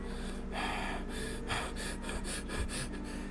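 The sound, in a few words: voice imitating rapidly increasing breathing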